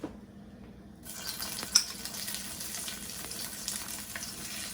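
Red curry paste dropped into hot oil for a Thai red curry with vegetables, a quiet pan that bursts into steady, close sizzling with a sharp crackle shortly after the paste hits.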